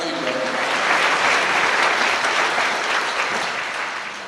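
A church congregation claps together in sustained, dense applause for a little over four seconds, steady and fairly loud throughout with a slight easing at the end, and no talk over it.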